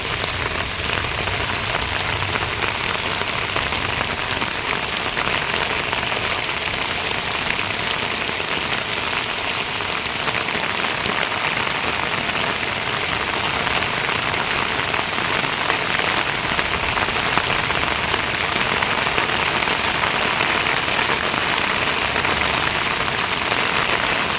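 Heavy rain pouring down in Odisha after three days of downpour, a dense steady hiss of drops drumming on surfaces, loud and unbroken throughout with no talk.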